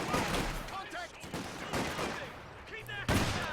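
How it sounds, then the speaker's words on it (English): Sniper rifle fire in a World War I–style strategy video game, with shots picked off at advancing squads: sharp reports scattered among battle noise, one loud crack near the end, all under commentary. "sniping these squads as they advance, doing a lot of damage here"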